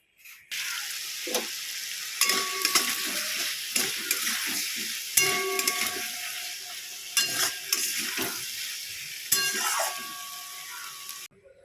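Malabar spinach (pui shak) cooking in a pan gives a loud continuous sizzle close by, broken by repeated scraping and clattering stirs with a metal utensil throughout.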